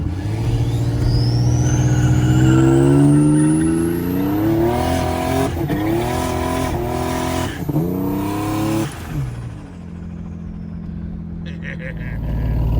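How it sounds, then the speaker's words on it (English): A 1993 Ford Thunderbird SC engine revs hard in a rolling burnout and climbs in pitch with a whine, wheels spinning loudly, then drops off near the end. "we can do us a nice little rolling burnout now"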